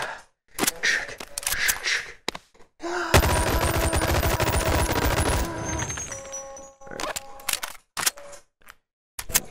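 An MP5K submachine gun fires in the virtual reality game Boneworks: sharp single shots and short clicks, then a loud sustained automatic burst of several seconds, followed by mechanical metallic clacks and a few more isolated shots.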